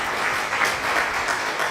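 Dense applause from a crowd, steady clapping filling the whole moment with no voices.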